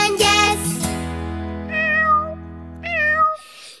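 A kitten meows in a children's song over sustained musical backing. There is a loud first meow, then two softer, separate meows later, each a rising-falling tonal cry.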